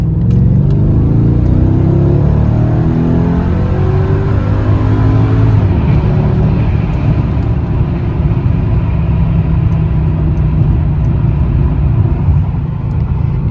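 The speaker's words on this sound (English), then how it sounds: "Let's go full throttle right here." Mercedes C32/E55 AMG driven at full throttle, its engine a loud, steady, close rumble with rising harmonic tones as it accelerates through the revs, continuous throughout without speech.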